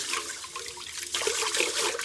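Rinse water from washed sushi rice poured out into a sink, a continuous splashing, trickling pour that swells louder partway through, heard close with no talking.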